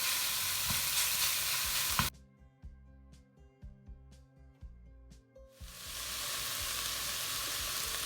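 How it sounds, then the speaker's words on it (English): Ground beef frying in a pan for chilli, a loud, steady close sizzle that cuts out for a few seconds of clinking and stirring, then resumes. "You can hear that frying."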